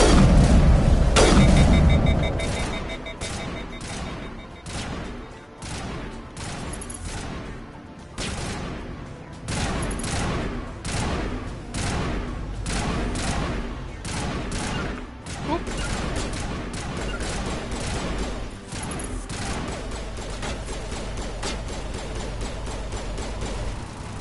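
Gunfire in the sci-fi shooter Mass Effect: a loud opening blast, then rapid, repeated shots and booms in irregular bursts that continue throughout, with talk now and then over the combat.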